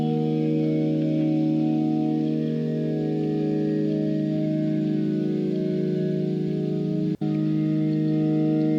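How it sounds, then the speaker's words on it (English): A smooth, textural music track plays dry with its Supermassive reverb switched off: steady sustained tones throughout, loud and continuous, broken once by a brief sharp click near the end. "so it's still really smooth, but really textural without the reverb"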